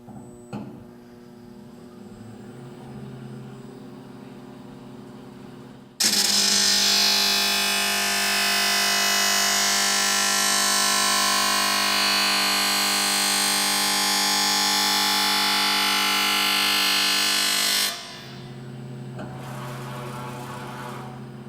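An Elite E-S4 automated blade sharpener starts up with a loud, bright grinding whine that holds steady for about twelve seconds, then drops back to a lower mechanical hum of the running machine.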